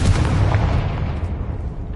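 A Confringo spell in Hogwarts Legacy bursts with a deep, rumbling blast that rolls on as a sustained low boom and crackle for about two seconds, loud and close with no talk over it.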